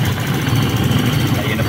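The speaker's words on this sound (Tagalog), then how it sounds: "Ito po ang kanyang makinang ginamit." A 2024 Motorstar ADV 175 fuel-injected motorcycle engine runs at a steady idle, loud and close, with a low continuous rumble throughout.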